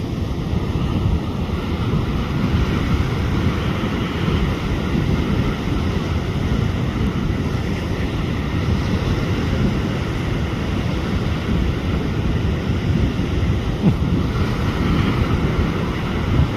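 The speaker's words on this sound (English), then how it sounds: "Waves are right on top of each other." Surf breaks in close, overlapping waves at a boat launch site in St Lucia, a continuous loud roar of churning water mixed with gusty wind buffeting the microphone, with no voices.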